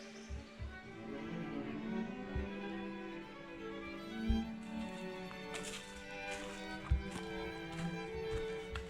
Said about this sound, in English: Such a beautiful sound, water. I feel like it's the sound of life.